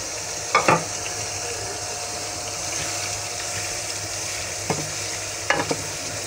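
Tomatoes frying in a pan for a drumstick chicken curry, a soft steady sizzle with a few sharp spoon scrapes and clinks, no speech.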